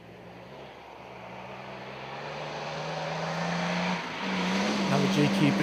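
A 4x4 off-road truck drives hard through a winch challenge course near a creek, its engine droning with a steady rising pitch that grows louder toward the end, heard from a distance without clear talk.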